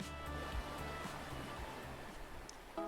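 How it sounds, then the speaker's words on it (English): Ocean waves wash steadily onto a sandy shore in the Arcade Spirits video game, a soft continuous surf rumble at low volume with no talking. "What greets us is the scenery sound of the ocean, the soft cry and the waves clash atop the sand"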